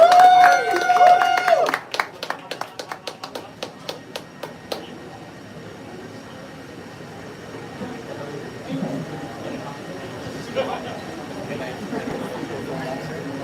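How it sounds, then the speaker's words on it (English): Brief audience applause at a panel event on stage: after a moment of talk, a scattering of claps trails off quickly into quiet room noise. "Let's give them another round of applause."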